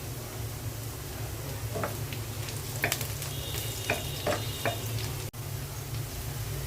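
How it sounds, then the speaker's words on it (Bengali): Sliced onion fries in hot oil with whole cardamom and cinnamon in a pan, giving a steady soft sizzle with scattered crackles and light clicks from stirring. "পেঁয়াজের মধ্যে দিয়ে দিচ্ছি গরম মশলা"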